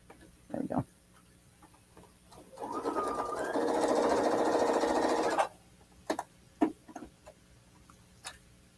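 A sewing machine stitches down a quilting seam at a handmade craft event, running in one steady mechanical burst of about three seconds, close and fairly loud, framed by a few faint handling clicks before and after.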